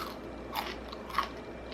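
Two crisp bites into crunchy homemade bread chips, toasted until a little dark, each giving a short close crackling crunch over quiet room noise.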